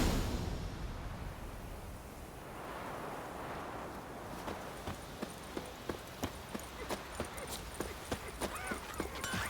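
Roach, a horse, gallops in The Witcher video game, a run of evenly spaced hoof clip-clops that grows steadier and sharper over the second half, following a quieter rumbling stretch with no talk.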